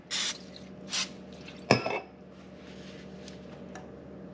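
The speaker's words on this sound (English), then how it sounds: "I'll give it a quick little spray" Butter-flavored cooking spray is spritzed onto fish fillets: three short, soft hissing bursts close by, the last slightly longer, followed by quiet.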